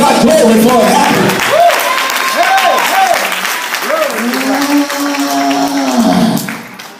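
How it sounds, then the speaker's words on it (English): A church congregation claps and cheers loudly, a dense roar of hands with excited voices and sung or shouted tones rising over it, fading out near the end. "Clap your hands and give God glory for it happening."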